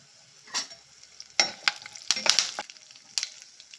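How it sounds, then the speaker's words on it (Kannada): Coriander seeds and curry leaves frying in hot oil for hotel-style tomato bath, with a crackling sizzle and a few sharp spatula scrapes and pops spaced through a short stretch, close and moderately loud, no talking. "ಧನಿಯಾ ಕಾಳು ಸ್ವಲ್ಪ ಫ್ರೈ ಆಗಲಿ"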